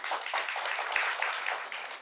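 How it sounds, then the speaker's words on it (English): A graduation audience applauds students completing a creative writing master's, a short burst of moderately quiet, steady clapping in a modest room. "deserves an incredible round of applause"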